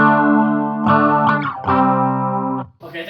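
Electric guitar played through a chorus effect on a Line 6 Spider IV 15W amp, several sustained chords with a shimmering, wavering tone, separated by brief gaps, loud and close with no talking.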